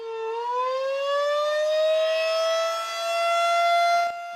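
Storm warning siren from the DeSoto and Lancaster network winding up and holding a steady, loud wailing tone for several seconds before cutting off near the end, heard alone with no talking.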